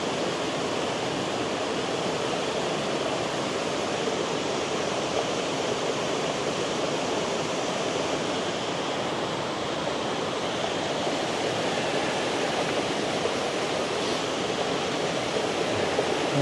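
Steady outdoor wind roars as broadband noise across a breezy plein air painting spot, loud and unbroken with no voices.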